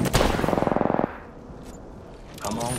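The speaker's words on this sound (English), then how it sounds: "Getting shot at." In Apex Legends, a close burst of rapid gunfire rattles for about a second, then fades into quieter game ambience before another weapon sound rises near the end.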